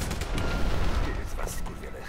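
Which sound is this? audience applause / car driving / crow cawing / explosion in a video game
explosion in a video game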